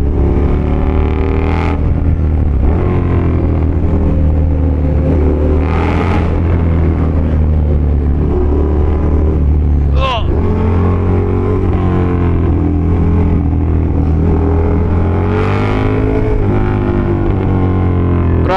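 A KTM Super Duke and a supercharged Kawasaki ZH2 ride together, their engines droning loud and constant up close, with wind rush and a few brief revving swells along the way.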